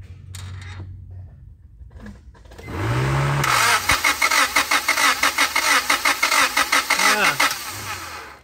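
A car engine with a distributor and a low-compression cylinder is cranked by its starter: a rising whir, then a long run of rhythmic, loud chugging pulses that never catch, heard close up.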